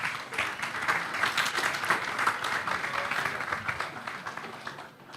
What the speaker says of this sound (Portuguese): Vamos recebê-lo primeiro com uma salva de palmas.